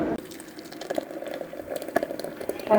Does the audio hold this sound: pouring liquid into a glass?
yes